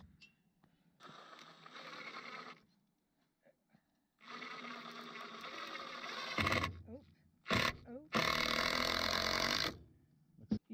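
A power driver sinks 3.5-inch screws into the boards of a DIY wooden sawbuck in close, whirring bursts of a few seconds each. Between them come short pauses and quick clicks and thuds.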